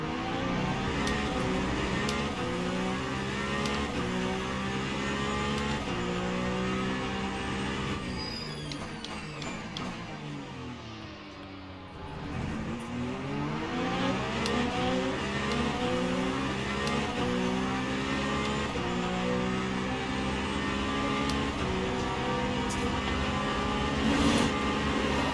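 Lamborghini race car engine at Spa in a racing game, loud sustained roar with rising and falling pitch sweeps as it brakes into a chicane and accelerates out, dipping briefly midway before building again.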